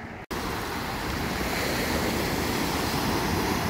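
Sea surf washing onto the shore at Mahmutlar near Alanya, Turkey, a steady broadband roar of breaking waves with some wind across the microphone, continuous and close after a brief cut at the start.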